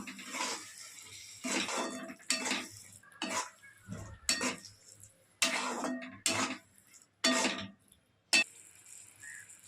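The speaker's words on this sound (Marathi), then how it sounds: "आता आपण त्यामध्ये बटाटा टाकणार आहोत। आणि त्याला मिक्स करून घ्यायचे।" A spoon scrapes and clinks against a pan as potato is stirred into a dried bombil curry, in separate short bursts of metallic scraping with quiet gaps between them.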